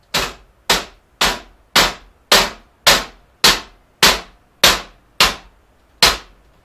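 Eleven sharp metallic knocks from a heavy lead mallet striking a David Brown 996 tractor bonnet panel, evenly spaced about half a second apart, each ringing briefly before fading, loud and close.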